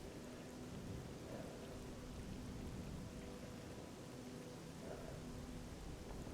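Steady rain falls in the STALKER video game, a dense, constant hiss with low rumbling beneath it that suggests distant thunder, running evenly throughout with no voices.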